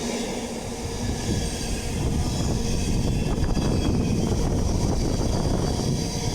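A GBRF Class 66 diesel locomotive, 66703 Doncaster PBS, hauls container wagons past close by. Its loud, steady rumble of wheels and engine carries light clattering and squealing from the rails throughout.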